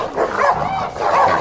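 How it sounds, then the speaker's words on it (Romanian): Several dogs in a rural village bark repeatedly at close range, loud sustained barking over about a second and a half with no talk. "Dar cu câini ăștia atât de mulți?"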